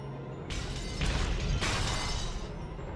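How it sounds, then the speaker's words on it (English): Goats batter and smash their way through a mansion in the visual novel Umineko, heard as a sustained, noisy crashing rumble that bursts in after a quiet start and churns on without speech. "The mansion was filled with the sounds of knocking, crushing, smashing, and chewing."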